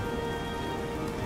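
Rain falls steadily in the video game Oblivion, a dense, constant patter and hiss with no pauses, fairly loud and with no voices over it.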